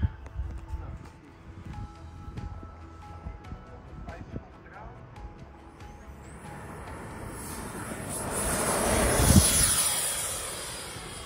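A 3D printed F-35A model jet on a field runs up its motor, a quiet whine building into a loud high-pitched whoosh near the end, with people talking in Dutch.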